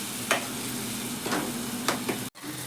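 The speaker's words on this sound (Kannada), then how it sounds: "ಹೀಗೆ ಚೆನ್ನಾಗಿ ಕದಡಿಸುತ್ತಾ ಇರಬೇಕು." Tempering for chitranna stirred and fried in a pan: a steady low sizzle with a few scraping stir strokes, then a brief break near the end before the sizzle returns.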